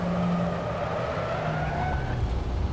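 A Mazda MX5 Miata in Assetto Corsa skids with a dense, roaring engine and tyre noise throughout, loud and continuous, ending in a short rough burst that may be the crash, with no talk.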